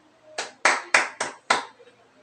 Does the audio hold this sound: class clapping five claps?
yes